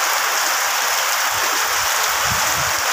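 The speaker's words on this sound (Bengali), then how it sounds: "এখন অনেক বৃষ্টি নামছে।" Heavy midday rain pours down in a steady, dense hiss over a village house and its veranda, with faint low thuds of water hitting surfaces beneath the continuous wash. No voices.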